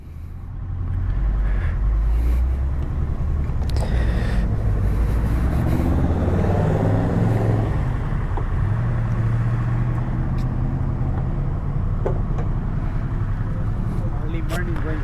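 A Harley-Davidson Sportster 1250cc motorcycle on an early morning ride, its engine a continuous loud low rumble with wind noise, heard from the rider's position, with people talking over it.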